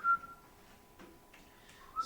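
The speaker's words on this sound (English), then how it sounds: "when the DM's working, we're all whistling" Several people whistle in short, thin, high tones, with one sustained note at the start and brief scattered whistles after it, faint and close in an otherwise quiet room, with no talking.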